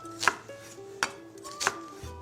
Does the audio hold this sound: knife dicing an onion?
yes